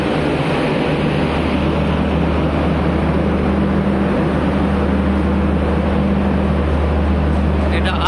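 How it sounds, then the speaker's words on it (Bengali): Train generator running at a railway station beside a long-distance train, a loud steady drone with a constant low hum throughout. "জেনারেটরের আওয়াজ"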